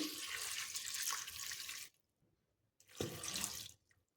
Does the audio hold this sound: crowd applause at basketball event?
no